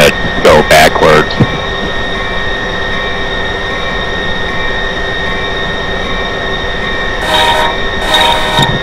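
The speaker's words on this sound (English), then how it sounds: "That train over there, he's gonna not turn around, he's just gonna go backwards." A train rumbles steadily along the Northeast Corridor tracks with bursts of loud horn blasts at the start and again near the end.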